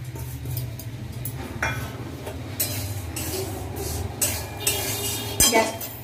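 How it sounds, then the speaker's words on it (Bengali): Dry broken wheat (dalia) stirred in an empty wok over a high gas flame in a village kitchen. A spatula scrapes continuously, with scattered metallic clinks that grow sharper toward the end, over a steady low background hum. "ডালিয়ার পোলাও বানানোর জন্য প্রথমে আমি ডালিয়াগুলো শুকনো কড়াতে একটু নেড়ে নেব।"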